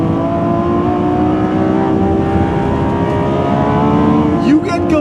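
Lamborghini Revuelto V12 revving hard toward its 9,300 RPM redline, a loud continuous wailing engine note with rising harmonics, heard from inside the car over steady road and wind noise.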